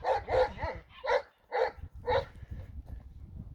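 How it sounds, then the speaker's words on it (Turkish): A young Kangal dog barks nearby, five quick barks in a row, then it goes quiet and leaves only low background noise. "Bu harbiden farklı bir köpek. Değil mi? Hala bak havlıyor."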